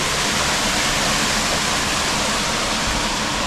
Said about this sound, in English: So now all that water is running along the surface